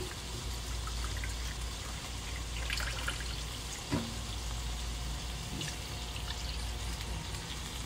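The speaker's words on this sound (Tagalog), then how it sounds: "Lagyan natin ng tubig." Water pours steadily into a cooking pot on the stove, a continuous soft splashing and trickling rush at moderate distance with no talk.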